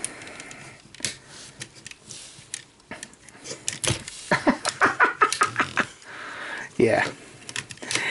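A Transformers Combiner Wars Superion toy has its big ratchet joints clicked and cranked into poses, giving a run of sharp plastic clicks and snaps up close, interrupted by someone speaking briefly.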